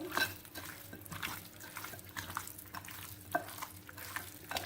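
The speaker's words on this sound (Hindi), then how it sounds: "और थोड़ा सा फूड कलर शामिल करेंगे और अच्छी तरह हाथ की मदद से मिक्स करेंगे।" Hands mix raw chicken with salt and food colour, giving soft, wet squelching and rubbing sounds. The quiet kneading comes in close, irregular pulses, and no one speaks.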